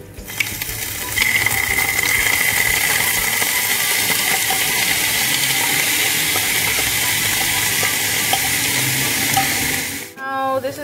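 Celery frying in a hot pan, a steady close sizzle holding evenly throughout before a brief clatter at the end.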